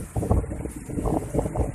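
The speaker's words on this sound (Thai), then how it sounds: "ตอนนี้ลมแรงมากต้องบอกว่าลมแรงมากๆครับผม" Strong gusting wind ahead of a rainstorm in rural Thailand buffets the microphone with loud, rough, pulsing rumbles throughout the short stretch.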